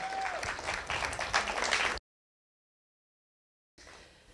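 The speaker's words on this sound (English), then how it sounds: "why we don't give them a round of applause all as a group?" A group of poetry recitation contestants at a 2016 Monterey County competition receives audience applause, a dense, steady wash of clapping lasting about two seconds before cutting to silence, then a fainter burst of clapping at the end.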